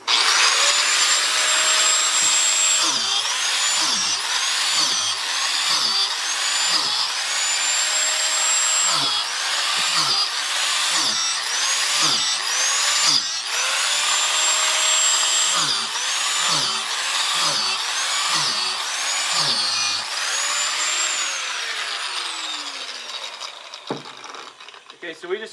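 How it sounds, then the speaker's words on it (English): An angle grinder fitted as a drill bores holes into a shiitake mushroom log: a steady loud whine runs throughout, dipping in short repeated bursts about once a second as each hole is cut, then trailing off near the end. "drill our holes in our log, and we'll use our angle grinder for that"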